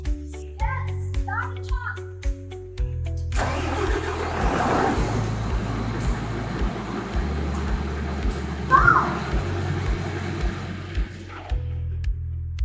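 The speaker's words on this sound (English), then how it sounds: "Yes, start the truck." A truck engine cranked on a 24V 105Ah starting battery catches and settles into a loud, steady diesel rumble, with someone talking before it starts and voices heard over the idle.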